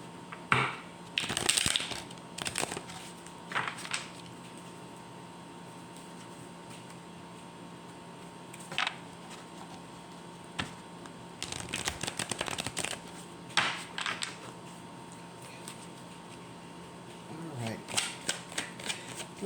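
Angel oracle cards being shuffled for a card reading, giving short bursts of riffling and flicking with quiet gaps between them, with someone talking in between the bursts.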